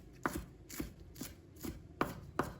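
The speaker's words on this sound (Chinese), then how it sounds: "再准备几根小葱，把它切成葱花" A knife chopping scallions on a board, six crisp, evenly spaced thuds about half a second apart, close and fairly quiet, with no voices.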